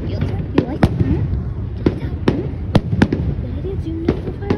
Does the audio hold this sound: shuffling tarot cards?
no